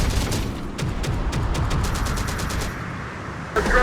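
Rapid bursts of gunfire in the Terminator: Dark Fate - Defiance game, a fast run of sharp shots over a low rumbling battle bed, loud and dense, ending with a heavier blast.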